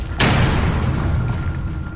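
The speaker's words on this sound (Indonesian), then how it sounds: "Suara ledakan kecil menggema di ruangan itu, dan semua benda di sekitarnya bergetar." A single small explosion booms through a room, hitting suddenly and then fading into a low, rumbling echo that lingers for over a second.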